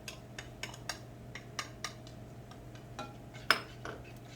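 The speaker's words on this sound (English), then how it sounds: "Start stirring that together" A spoon stirs chili ingredients together in a pot, giving a series of light clinks and scrapes against the sides spaced through the stretch, close and fairly quiet over a steady low hum.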